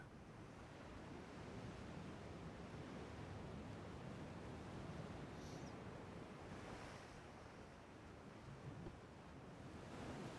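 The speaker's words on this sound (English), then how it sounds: "Waves are already crashing all over the deck." In the naval game Ultimate Admiral: Dreadnoughts, waves wash steadily over a warship's deck. The rush of surf and wind is broad and continuous, fairly faint, and runs without pause or talk.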